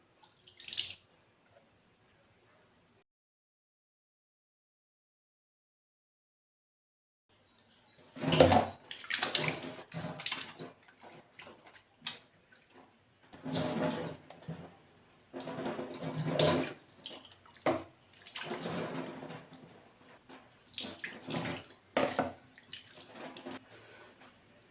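Water poured from a jug splashes over hands during handwashing without running water, irregular bursts of splashing and trickling after a long quiet start, near and moderately loud.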